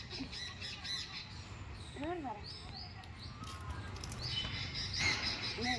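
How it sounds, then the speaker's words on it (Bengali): A bird caught in a net squawks and chirps in short, sharp bursts, fairly close, with some rustling and faint background voices. "তুই আটকে গেলি পাখিটাকে ছাড়াতে গিয়ে"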